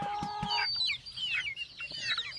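Ordinary backyard domestic chickens make a few low clucks up front, followed by a run of high, quick chirping peeps from young birds, close and clear with no speech.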